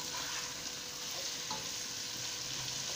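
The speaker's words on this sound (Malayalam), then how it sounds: "നമ്മളൊന്ന് ഇളക്കി കൊടുക്കുകയാണ്." Onions sizzle steadily in oil in a frying pan for a Kerala-style spicy potato curry, stirred continuously with a gentle scraping hiss, close and even throughout with no talking.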